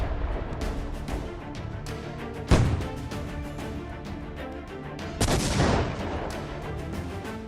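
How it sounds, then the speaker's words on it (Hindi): Iranian cluster-bomb missile strikes over Tel Aviv: a dense crackle of rapid blasts and popping detonations runs throughout, with two heavier booming explosions standing out, the whole barrage loud and continuous. "तेल अवीव के आसमान में ईरानी क्लस्टर बम से भारी मिसाइलें कैसे कोहराम मचा रही हैं"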